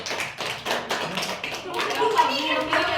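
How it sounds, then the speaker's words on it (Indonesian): A classroom group claps hands in a quick burst of scattered, fairly close claps, with voices talking over the applause toward the end. "tepuk tangan dulu sama kelompok 1."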